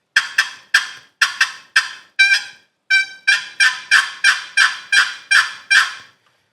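A turkey call imitates hen yelps in a fast series of about fourteen sharp, clear, nasal notes with brief gaps, loud and close with no other sound.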